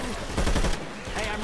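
Rapid gunfire in the video game Left 4 Dead 2, a short dense burst of shots loud and close amid chaotic action, lasting barely over a second.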